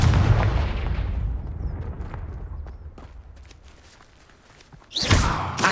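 A Confringo fire spell blast in the Hogwarts Legacy video game starts with a loud booming burst that slowly fades away. A second sharp blast hits near the end.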